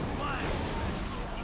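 Cannon fire in the video game Halo: Reach, a dense, continuous rumble of blasts filling the whole moment at steady loudness, with no clear gaps between shots.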